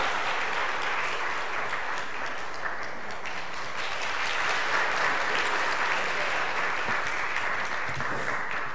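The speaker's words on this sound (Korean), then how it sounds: "다시 한번 우리 사모님께 축하의 박수 보내드리도록 하겠습니다" Sustained applause from a church congregation at a Sunday worship celebration, even and continuous throughout, moderately distant with no speech.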